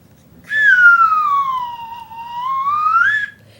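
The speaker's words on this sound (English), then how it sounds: "If I take a little slide whistle, this is just a toy slide whistle." A toy slide whistle plays one long sustained note that glides down in pitch and then climbs back up, clear and close, with faint background noise.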